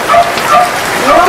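Heavy rain falling steadily during a prolonged downpour, a dense wash of noise close by, while a dog yips and whimpers in short bursts on top of it.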